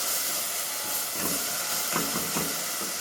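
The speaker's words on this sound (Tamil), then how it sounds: "இதில் தக்காளி கொஞ்சம் ஃப்ரை ஆகட்டும்." Tomatoes frying with onion and garlic in a pan, giving a continuous close hiss of sizzling oil with a few faint soft pops, heard alone.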